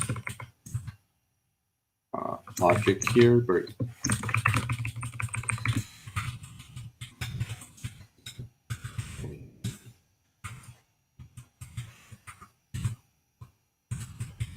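Rapid keystrokes on a computer keyboard during a live coding session, clattering in bursts with short pauses, close and moderately loud, with a few faint background sounds.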